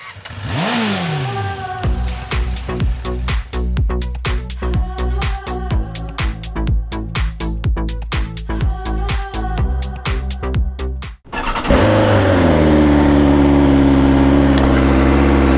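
A BMW S1000XR motorcycle engine starts, idles, then revs hard in repeated sharp bursts up the range, ending in a sustained loud high-revving roar, close by and alone.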